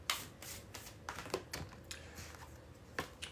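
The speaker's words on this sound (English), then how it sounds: "We need one card to end out this Gemini Collective reading. 3 more shuffles." A deck of tarot cards being shuffled by hand, with a quick run of soft riffling and slapping bursts, close and fairly quiet, with no talking.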